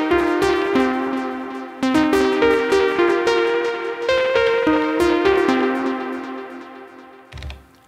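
An Elektron Digitone synthesizer plays a pluck patch as a melodic sequence of short, bright plucked notes with rich harmonics, loud and alone, ending in a brief pause and one last note.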